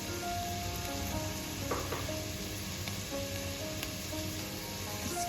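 Chicken and tomatoes fry in a pan with a soft, steady crackling sizzle and occasional stirring clinks, close but fairly quiet.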